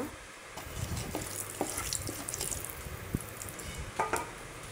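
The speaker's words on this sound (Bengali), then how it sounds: "এবার জিরা দিয়ে দিলাম। জিরাগুলোকে হালকা হালকা লাল লাল করে ভেজে নেব।" Soft, steady sizzling of cumin seeds frying in hot oil until lightly reddened, with occasional small pops and clicks.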